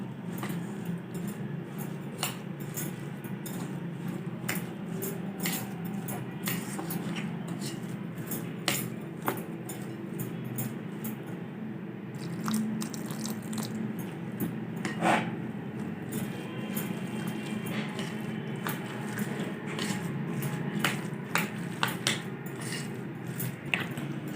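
A spoon stirs thick, wet semolina pakora batter in a bowl, with squishy slopping and frequent small clinks of utensil against the bowl.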